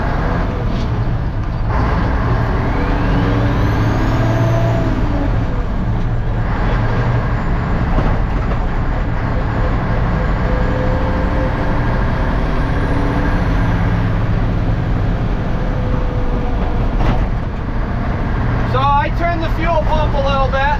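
A truck driven on a farm gives a steady, loud engine drone with road rumble throughout, and a voice talks over it.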